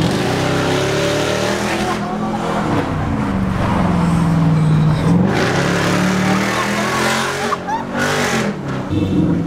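A powerful supercharged car engine roars and revs continuously, rising and falling in pitch as it accelerates, loud and close throughout with no voices.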